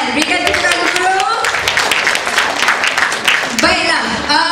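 An audience at a Malay-language spirulina health talk in Singapore claps together, a dense steady patter of hands that carries on throughout while a voice speaks over it.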